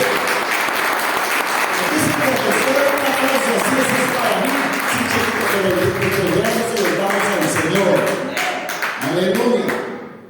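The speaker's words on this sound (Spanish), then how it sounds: "Denle un aplauso al Señor." Applause from a church congregation, sustained clapping filling the room for about ten seconds with voices calling out over it, then fading at the end.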